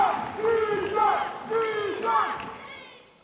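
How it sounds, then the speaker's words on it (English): An arena crowd at a Carolina Gold Rush vs. Princeton Revolution match roars in surging waves of cheering and shouting behind one player, loud and sustained for a few seconds before easing off. "Crowd clearly behind Jishan."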